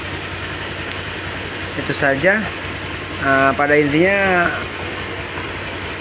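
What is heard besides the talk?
Honda Vario 125 scooter engine running after repair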